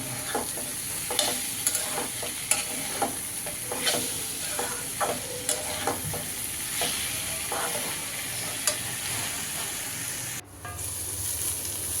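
Bitter gourd, potato and onion frying in a pan with salt, under a steady soft sizzle broken by regular scraping stirs of a spatula, with no talk.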